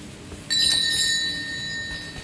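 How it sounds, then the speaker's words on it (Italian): A small bell rings out in the video game Elden Ring, a bright metallic chime with sustained high ringing partials that sounds once and then hangs, slowly fading over a quiet low background. "Chissà che l'ha suonato il campanello."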